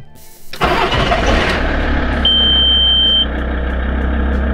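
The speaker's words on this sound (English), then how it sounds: "This is the new key that we've just programmed. Check that it's out of gear and that should start." A Volkswagen T4 van's engine is started with a newly programmed key: a brief crank catches into a loud, close engine that settles into a steady idle, with a thin high tone sounding for about a second.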